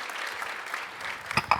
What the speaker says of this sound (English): can everyone give these guys a round of applause